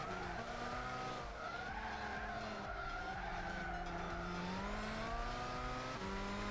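Kart tires squeal and skid through a corner in Gran Turismo 6, a continuous wavering screech over the buzzing kart engine, loud and sustained with no talking.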